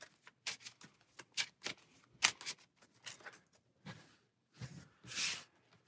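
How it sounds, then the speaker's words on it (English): Playing cards from a Lord of the Rings living card game deck being shuffled by hand, a run of crisp riffling bursts and soft clicks with short pauses between them, close and clear with no talking. "Give this a shuffle."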